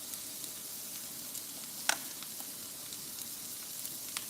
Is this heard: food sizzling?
yes